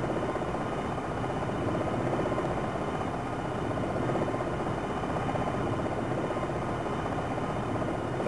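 A helicopter holds a hover in the flight sim game Jane's Longbow 2. The rotor and turbine make a steady, dense, unbroken drone that stays loud and even throughout, with no talking.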